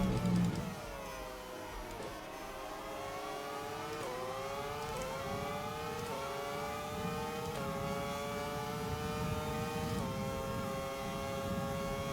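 An F1 race car engine in the F1 2020 video game holds a steady high-pitched whine with small rises and dips in revs as gears shift, droning continuously at moderate volume.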